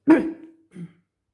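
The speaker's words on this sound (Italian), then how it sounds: "scusate la tosse" A single short throaty cough followed by a softer second burst, close and clear against silence.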